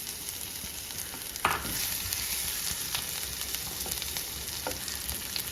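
Crushed garlic and ginger fry in a pan for Kerala-style cauliflower roast, giving a steady close sizzle with a sharp crackle burst early on and occasional soft pops.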